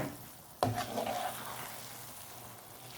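A spoon knocks once against the pan, then biko sticky rice is stirred with a soft, steady scraping and a light sizzle that fades to a low hum.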